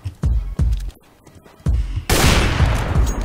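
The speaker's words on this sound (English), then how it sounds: "I'm gonna shoot the fuck out of Josh." Gunfire in the video game Counter-Strike: loud single shots crack out, a short quiet gap follows, then a sustained burst of rapid fire fills the rest.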